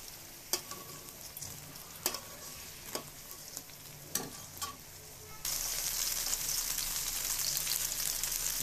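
Eggplant slices frying in a pan, a soft sizzle broken by a few sharp crackles and spatters that swells into a loud, steady hiss partway through.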